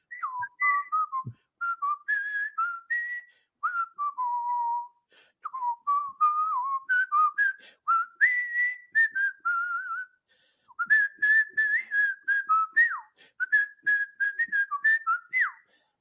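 A person whistles the Harlem Globetrotters theme up close, with bright clear notes in quick runs and a few short pauses between phrases.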